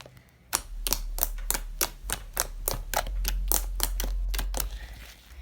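Clicky homemade slime squeezed and stretched by hand gives a rapid run of sharp, close pops and snaps, about a dozen crisp clicks in steady rhythm over a low background hum, with no talking.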